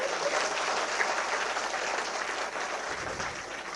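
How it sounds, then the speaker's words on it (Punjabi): A crowd applauds during a political speech by Punjab Chief Minister Mann, dense steady clapping from many hands filling the whole stretch, loud and close with no speech over it. "ਜੇ ਸਹੀ ਹੈ ਤਾੜੀ ਮਾਰ ਦਿਓ ਨਹੀਂ ਤਾਂ ਨਾ ਮਾਰ"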